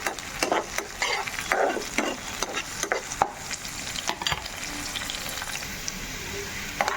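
Chopped green chilies frying with onions in a pan for methi aloo curry give a steady close sizzle. A spoon scrapes and stirs through it in repeated strokes, with no talk.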